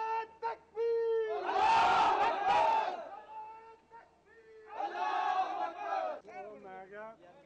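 A crowd in Lahore roars out the Nara-e-Takbir slogan in two loud bursts of massed shouting, each answering a single voice's call, with gaps where one person speaks between them.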